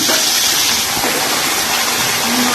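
Urad dal, curry leaves and vegetables frying in a pan give a loud, steady sizzling hiss that runs unbroken and close throughout, with no talking.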